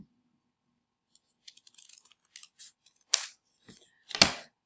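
Scissors snip through folded paper for a snowflake, with a run of light close clicks followed by several sharper, louder cuts in a quiet room.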